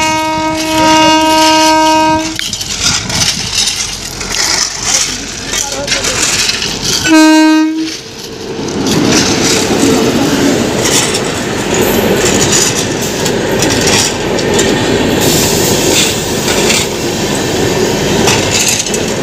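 A train passes along a railway line, sounding two long horn blasts, the second cut short, over a loud, continuous rumble and rattle of wheels and wagons that fills the whole stretch.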